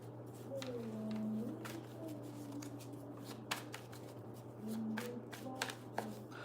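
A deck of tarot cards being shuffled close by, with several bursts of crisp riffling and card slaps spread across a few seconds. A low steady hum and faint vocal murmurs sit underneath.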